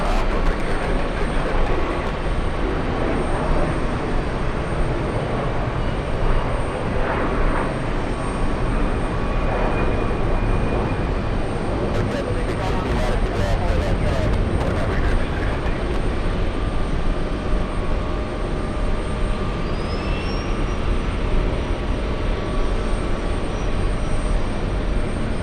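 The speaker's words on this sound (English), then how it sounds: "That SAS is an Airbus A330." An SAS Airbus A330 at JFK airport produces a continuous, fairly loud broadband jet roar with steady rumble throughout, mixed with outdoor background noise.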